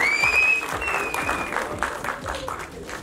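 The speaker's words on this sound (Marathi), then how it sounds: "त्यांच्या एंट्रीला आपण टाळ्यांचा बॅकग्राऊंड देऊ शकतो मला वाटतं" An audience applauds a guest's entry at a film trailer launch event, with loud sustained clapping from a large crowd and a rising whistle-like tone sliding over it at the start.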